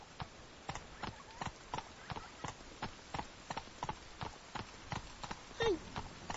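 Horse Roach gallops in The Witcher 3, a steady run of hoofbeats clopping near and clear, with a short whinny-like cry near the end.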